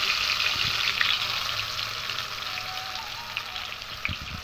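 Pointed gourds stuffed with filling fry in hot oil, giving a steady close sizzle with small pops and crackles throughout.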